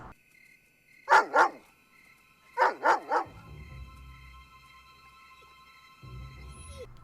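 A dog from the film Air Bud barks in two clear bursts, a double bark followed by a quick triple, fairly close and loud, with a low hum and quiet room noise filling the rest.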